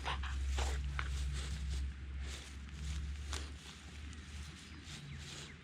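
A dog shuffles and moves around nearby, with soft rustling, light footfalls and jingling, faint and close without talking.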